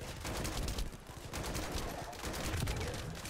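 Dense, rapid gunfire from The First Descendant rattles continuously in quick bursts, fairly faint and cluttered, with game effects mixed underneath.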